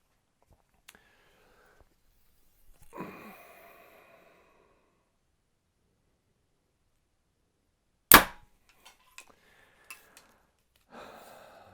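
A single sharp, loud snap of a compound bowstring release, followed by a few faint clicks and rattles against near silence; some soft rustling earlier.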